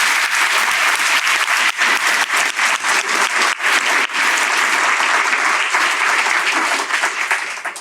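An audience at a keynote on Black publishing breaks into sustained applause, with loud, dense clapping that continues steadily for several seconds with no one talking over it.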